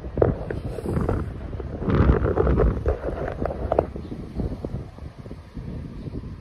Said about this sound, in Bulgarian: Разходка си правим, духа вятър.